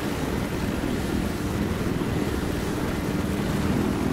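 A helicopter in the video game Battlefield gives a constant, dense rotor-and-engine roar that stays loud and steady throughout, with no talk over it.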